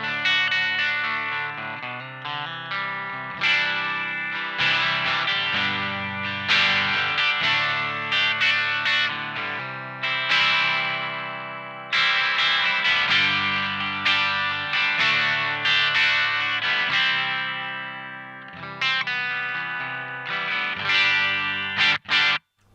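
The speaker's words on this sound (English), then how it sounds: "So pretty cool low overdrive sound." An electric guitar plays through a Proco Rat distortion pedal set to a low overdrive, producing a steady run of sustained, gritty chords and notes for over twenty seconds with no voices.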